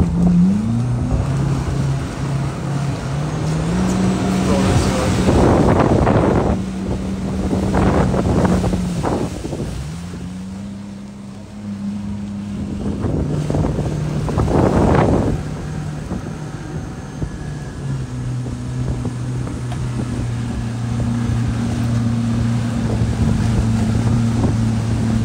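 A boat's outboard motor runs off Phuket, a steady droning hum that shifts pitch as the throttle changes, with bursts of wind buffeting the microphone and water noise throughout; no voices.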